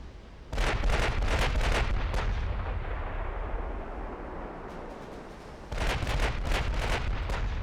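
Battleship naval gunfire in the Ultimate Admiral Dreadnoughts game, heavy rumbling bursts of rapid cannon salvos that fade into a lingering roar, then a second loud barrage near the end.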